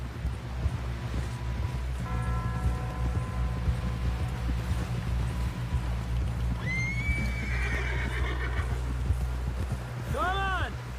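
Horse neighing and whinnying with clip-clop hooves during a ride in Red Dead Redemption 2, loud and close; two distinct whinnies rise over steady galloping, with a voice talking at the start.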